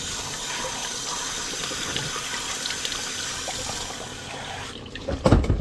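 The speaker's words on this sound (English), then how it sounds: "this filter is just aging badly. I'll rinse it out." Water from a tap runs steadily over a water filter as it is rinsed, a constant close hiss and splash that gives way near the end to a few louder knocks and splashes as the flow is handled.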